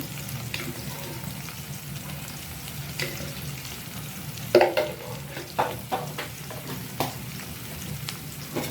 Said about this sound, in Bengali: এখন আমি কিছুক্ষণ এটা নাড়াচাড়া করব। মশলাটা ভালো করে কষিয়ে নেব।